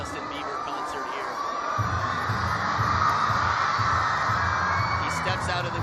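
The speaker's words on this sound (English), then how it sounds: "fans just going absolutely crazy over here" Crowd of fans screaming at a table tennis match, ZHANG Jike versus NIWA Koki at the 2016 Chengdu Open, a sustained high-pitched roar of shrieks that swells louder after a couple of seconds and stays intense.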